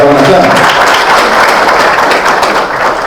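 Guests at a civil wedding in Gabon clap to greet the presentation of the witnesses, producing a full, continuous burst of applause that stays loud throughout, with a few voices mixed in.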